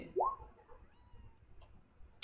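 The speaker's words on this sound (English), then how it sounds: "Oh, kitty. I heard the kitty." A single short cat meow rises sharply in pitch, fairly faint in a quiet room, followed by soft scattered clicks.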